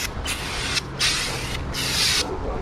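Spray paint can hissing in three separate bursts on a Lexus IS 300, each lasting about half a second, loud and close, with short gaps between.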